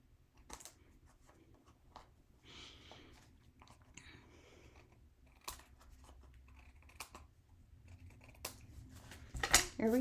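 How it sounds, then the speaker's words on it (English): Intermittent snips of scissors cutting paper, close up and fairly quiet, with crinkly rustles between cuts. "grab your scissors and cut off the excess on the sides."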